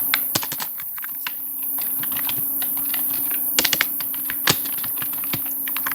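Someone types code on a computer keyboard while building a Bootstrap website layout, making quick, irregular clicking keystrokes up close with a few louder key hits against a steady background hum.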